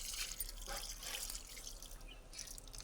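Water poured onto a bottle gourd plant, a continuous splashing trickle with bursts of droplets, fairly close and steady throughout, no talking.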